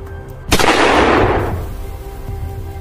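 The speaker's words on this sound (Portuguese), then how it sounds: "foi quando o bicho correu e Ernesto deu um tiro." A single loud gunshot cracks sharply, then a long rolling echo slowly fades away.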